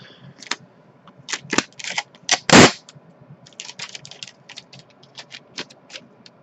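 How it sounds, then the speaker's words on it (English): Nail polish swatch sticks being taped together produce a series of sharp, close tape rips and crackles with quick clicks. One loud tearing burst stands out midway, then scattered short crackles follow. "So let's tape them real quick."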